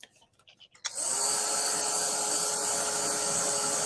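A hair dryer or heat tool drying an artist trading card switches on after a few quiet handling sounds, then blows a loud, steady, close whirring rush.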